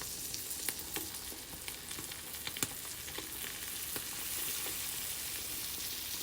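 Beaten eggs for a Korean hurricane omelet swirled steadily in a sizzling frying pan, a continuous close fry hiss with soft scraping taps from the stirring, no voices.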